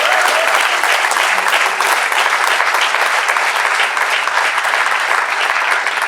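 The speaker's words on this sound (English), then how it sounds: "A big round of applause for them." Audience applauding at an event, dense sustained clapping from a large crowd, loud and even throughout with no pauses.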